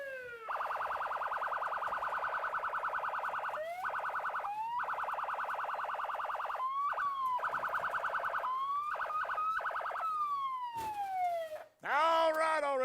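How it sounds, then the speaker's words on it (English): A loud wailing emergency siren cycles through rising and falling tones, switching patterns several times before ending in a sharp rising whoop. "Ray, call an ambulance."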